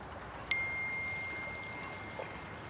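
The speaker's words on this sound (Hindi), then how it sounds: "मैसेज आया।" A phone message notification gives a single bright ding that rings on with a fading tone, clear and close above a quiet room hush.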